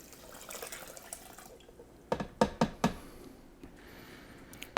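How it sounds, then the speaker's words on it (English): Water from a tap or jug poured into a cooking pot, four cups' worth, with a soft running trickle followed by several distinct splashy drips and knocks near the mic, then a final louder splash. "we're going to add 4 cups of water"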